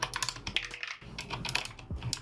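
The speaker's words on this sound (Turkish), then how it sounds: "Evet şimdi tuşlarımızı çıkarmaya başlayalım." Rapid, close plastic clicks and snaps come from keycaps being pried off a Gamepower Ogre RGB mechanical keyboard with blue switches, in an irregular, busy rhythm with no talking.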